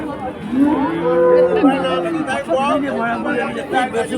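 Friesian cattle low with a long, drawn-out moo over a busy crowd of voices and chatter, close by in the noisy open space of a livestock market in Keshabpur.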